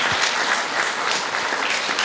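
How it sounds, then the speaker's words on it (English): Dense, steady applause from an audience clapping in appreciation at a church farewell, continuous and even throughout with no talking over it. "those clapping of hands shows the appreciation that we have for you"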